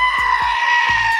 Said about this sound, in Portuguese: cabras.